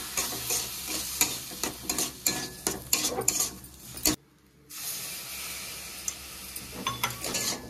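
Semolina being stirred in a pan as milk is added a little at a time, with close scraping and stirring strokes, soft sizzling and a brief pause partway through, no talking.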